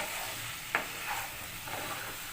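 Chopped vegetables stirred in a pan for homemade pasta: a quiet, low hiss with one sharp utensil tap against the pan and a few soft scrapes afterward.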